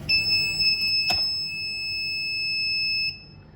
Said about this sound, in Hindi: 3 सेकंड्स के लिए बजर ऑन रहता है और आफ्टर 3 सेकंड्स बजर ऑफ हो जाता है।